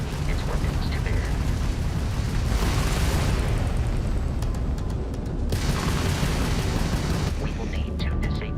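Crimson Fleet ship weapons firing in the space game Starfield, a loud continuous roar of blasts and rumbling booms that runs through the whole stretch, with a voice speaking over the combat.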